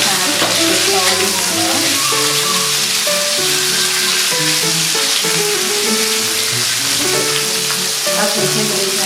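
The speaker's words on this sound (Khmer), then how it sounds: "យើងចាក់សាច់ចូលឆាខ្ទឹមសយើង" Pork stir-frying with browned garlic in a hot pan for a morning glory dish, a loud, continuous close sizzle with spatula stirring, while music plays underneath throughout.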